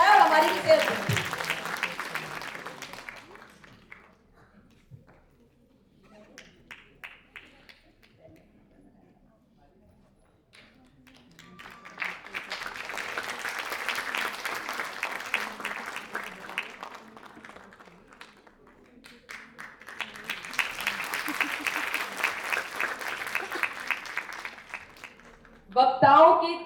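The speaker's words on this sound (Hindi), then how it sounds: "करतल ध्वनि से स्वागत कीजिए भैया" Audience applause at a two-day international Hindi award ceremony in Delhi, with several long bursts of clapping from a large crowd rising and fading, separated by quieter gaps with faint talk.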